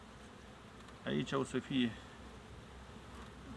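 Honey bees in a newly hived swarm colony being inspected by a beekeeper in the evening give off a faint, steady buzz, with someone speaking briefly over it.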